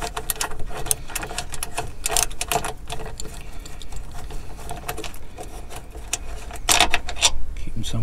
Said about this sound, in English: Just undo these bolts.